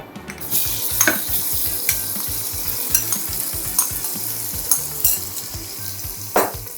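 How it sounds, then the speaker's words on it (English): Cooked pumpkin stirred into a pan of sizzling mustard seed, red chilli and curry leaf tempering for erissery, a steady frying hiss with spoon scrapes and clinks against the pan throughout. "Now we add the cooked pumpkin into this."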